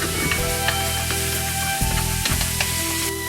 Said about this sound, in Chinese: 锅中准备蒜蓉，炒香